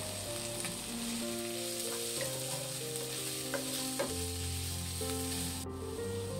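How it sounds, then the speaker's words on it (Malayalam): Sliced onions sautéing for a tuna curry in a home kitchen pan, a steady close sizzle with occasional stirring clicks, while soft background music plays throughout. "തൂനയിലേക്കുള്ള ഉള്ളിയൊക്കെ നന്നായിട്ട് വഴന്ന് റെഡി ആയിട്ടുണ്ട്."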